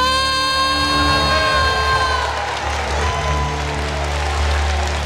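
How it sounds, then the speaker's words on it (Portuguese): A church congregation claps and cheers during a worship service, with crowd noise and shouts over sustained musical tones from a keyboard or organ, loud and continuous throughout. "aplaudam ao Senhor"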